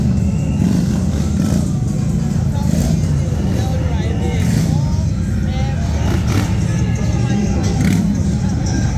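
Motorcycles and cars ride along Rodeo Drive, a steady loud roar of engines with revving surges, close-by traffic noise and crowd babble throughout, while a voice talks over it.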